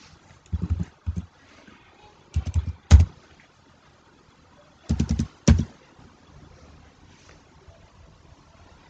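Bursts of soft tapping on a mobile phone's touchscreen keyboard while entering a new Gmail address, coming in short clusters with pauses between, close and fairly quiet, with no talking.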